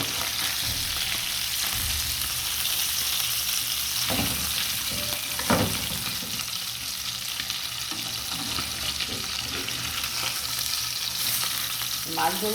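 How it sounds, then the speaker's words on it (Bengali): Spice-coated sea fish frying in oil in a pan, a steady close sizzle running throughout with occasional louder scrapes and knocks as the pieces are stirred and turned. "আমার মাছ ভাজা হয়ে গেছে"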